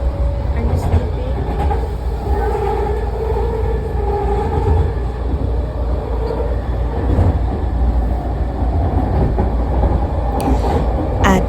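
Inside a moving SkyTrain car in Surrey, a loud, continuous rumble and rattle of wheels on track fills the space, with faint squeals and muffled background noise throughout.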